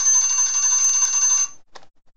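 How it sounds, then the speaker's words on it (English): An alarm going off with a rapid, bright electronic ringing trill for about a second and a half, then cutting out, followed by a short faint click. "There was my alarm."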